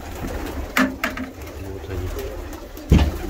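Pigeons coo close by in a loft, a couple of soft throaty calls with a louder burst near the end over low background noise.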